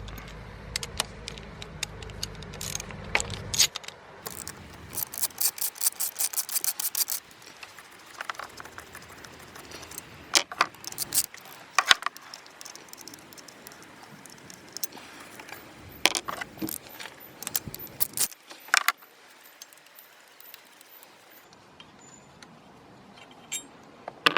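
Bolts on a car's fuel filter holder being loosened and removed, heard as scattered metallic clicks, taps and rattles of tools and small parts, close up and irregular, with no speech.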